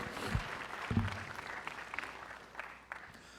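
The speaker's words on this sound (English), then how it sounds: "we have to applaud this aspect of GAWU" An audience at a sugar workers' union 50th anniversary celebration gives fairly quiet applause, a loose patter of clapping with a few sharper claps and low thumps, tapering toward the end.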